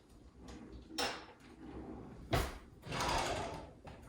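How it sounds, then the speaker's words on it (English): A kitchen drawer opened and closed while putting away straws, giving a few separate sliding scrapes and a firm knock, with quiet gaps in between. "I'm going to go ahead and put them in the drawer, like with like."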